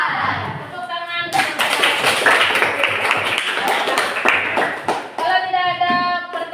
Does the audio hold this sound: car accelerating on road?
no